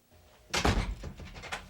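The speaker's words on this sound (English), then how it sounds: "go inside and lock the door" A door in a home swings shut with a solid thump, followed by softer rattling clicks of a lock being fastened, close and alone without speech.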